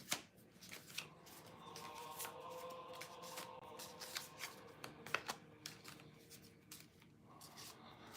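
Tarot cards are shuffled close by in soft, repeated riffling and slapping strokes, quiet and irregular, with a few sharper snaps along the way.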